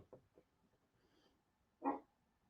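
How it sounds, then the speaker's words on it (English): Dog barking at a distance, a couple of soft woofs followed by one louder bark, alone in an otherwise quiet room. "Oh, I hear a woofing doggy."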